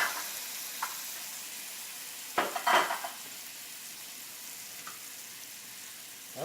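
Acorn squash pieces sizzle in melted butter in a skillet, a soft steady hiss broken by a few clinks and scrapes of a utensil against the pan.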